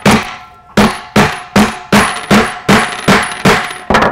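A hammer repeatedly whacks a carriage bolt down into its hole, eight sharp metallic strikes at a steady pace, each ringing briefly before the next, loud and close with no talking.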